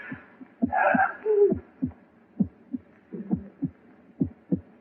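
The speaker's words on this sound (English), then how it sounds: "It's your heart. Beating, pounding, driving the blood through your veins." A steady heartbeat thumps in slow, regular pairs of low beats, close and muffled; a brief tonal whoosh rises early on.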